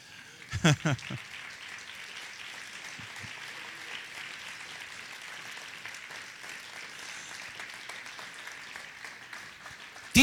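Steady clapping from a church congregation applauding God fills the whole stretch, with a few sharper claps near the start and a brief voice in the background.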